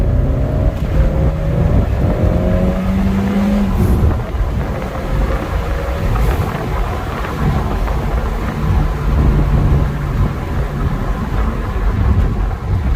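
A Peugeot 405 T16 accelerating and braking hard, heard from inside the car as a loud, continuous roar of engine and road rumble that swells and eases throughout.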